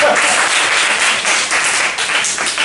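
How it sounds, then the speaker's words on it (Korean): A church congregation claps together in dense, steady applause that fills the room for under three seconds at a loud, even level. "박수 한번 쳐주세요"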